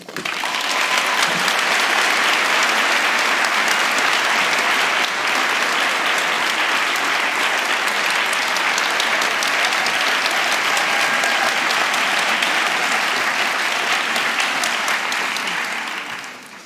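A large audience at the 92nd Street Y applauds steadily to welcome Barry Rosenstein onstage, a dense, sustained clapping that holds evenly for over fifteen seconds before tapering off.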